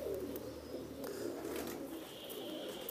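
Pigeons coo steadily and softly, low and continuous, with faint chirps above, amid quiet rooftop ambience during hot-weather flying of Teddy pigeons in Jammu and Kashmir.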